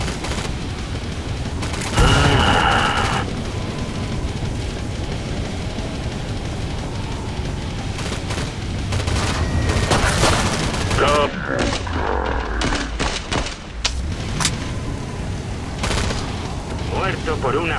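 Rapid P90 gunfire from the video game Killing Floor 2, loud bursts mixed with booms and game effects, with a voice talking over much of it.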